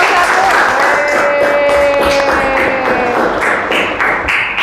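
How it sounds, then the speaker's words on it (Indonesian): Students clapping for their group in a classroom, a dense sustained patter of many hands with some crowd noise running throughout the whole stretch. "kasih tepuk tangan dulu ya buat kelompok"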